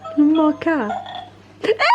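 A toy lets out a loud, close, croaking burp sound alongside a voice, ending with another short vocal burst.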